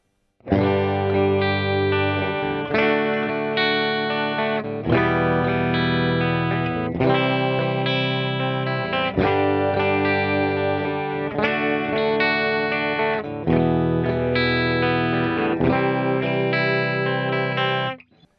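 Electric guitar on the bridge pickup played clean and dry through a 10-foot cable into a DAW, strummed chords ringing steadily with no effects, loud and close, several chord changes in sequence.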